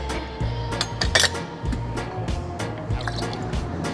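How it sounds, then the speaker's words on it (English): Fresh lemon juice poured for a cocktail, close liquid drips and splashes with light clinks of bar tools, a busy wet trickle running steadily throughout. "So we're gonna go for 20 ml of fresh lemon juice."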